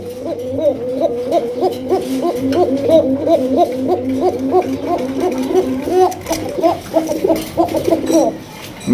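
Koka-breed pigeons coo in a fast, steady run of repeated throaty notes, close and loud, with faint background noise and a few voices.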